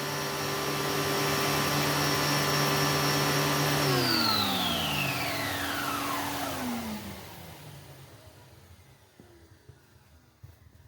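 Prolux CTX canister vacuum cleaner running loud and steady with its power nozzle attached, a whining motor that winds down sharply after about four seconds, its pitch falling away into near silence.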